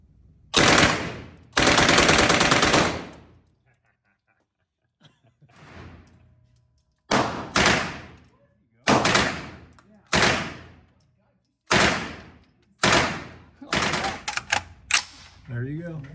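Bursts of automatic fire from a submachine gun, compared to a Thompson, crack out at an outdoor shooting gathering: two long loud bursts, then a string of shorter, evenly spaced rapid bursts, close and sharp, with near-silent gaps between.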